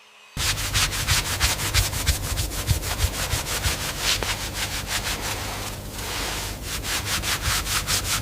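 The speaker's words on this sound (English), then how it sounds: "The polishing process is crucial." Tortoiseshell being polished by hand in a turtle shell workshop, a fast, even series of close rubbing strokes, several per second, continuing steadily with only slight changes in pressure.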